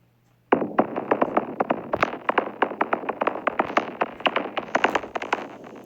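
Napalm burns across land in the game WorldBox as a rapid string of sharp crackling pops, dozens of close, fairly loud bursts in an uneven rhythm after a sudden start.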